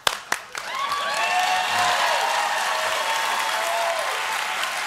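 Audience applause swells after a couple of sharp claps and holds as a full, steady clapping wash, with a few whistles over it, fairly close and loud.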